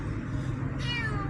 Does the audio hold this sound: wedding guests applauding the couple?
no